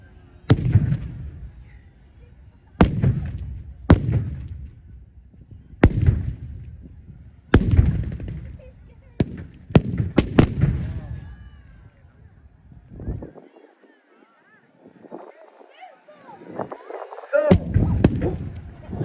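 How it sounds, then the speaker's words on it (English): Repeated loud blasts of pyrotechnic charges as an ammo dump is blown up during a WWII battle reenactment at a 1940s weekend in Lytham, sharp bangs spaced a few seconds apart with rumbling tails, crowd noise between. "Oh, yeah, he's blowing up the ammo dump."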